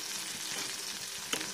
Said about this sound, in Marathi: मिरच्या आता हे सगळं छान फ्राय होऊ द्यायचं.